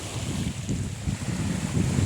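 Steady rushing wind buffets the microphone, a low roaring rumble that swells and dips without pause, with open water faintly beneath.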